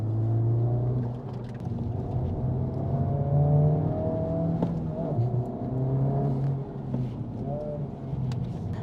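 A race car engine revs and whirs steadily on a warm-up lap, with rising and falling tones as it accelerates and shifts, close and fairly loud throughout.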